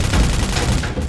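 Soldiers firing their guns, a loud, dense volley of rapid shots packed closely together.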